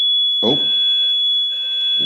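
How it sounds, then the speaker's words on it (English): A fire alarm sounds as a steady, piercing high electronic tone that runs through the whole stretch, with a brief burst of speech near the start. "we got the fire alarm going off"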